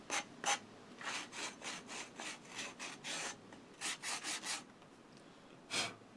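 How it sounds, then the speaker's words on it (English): Sandpaper rubs inside and around the cut end of a carbon fiber bicycle fork steer tube, making a series of short, close, dry scratching strokes in an uneven rhythm, with a few pauses between bursts. "We just want to take some sandpaper inside the steer tube and around it"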